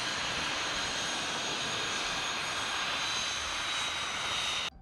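A Dassault Falcon 900 trijet business aircraft produces a steady, loud, broadband engine roar that holds constant and then cuts off abruptly at the end.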